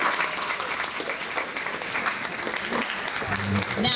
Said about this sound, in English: So please clap it up for her.